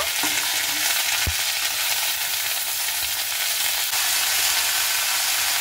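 Washed spinach dropped into a hot pan with garlic, erupting into a loud, steady hiss of frying with a sharp clatter near the start, close and continuous with no voices.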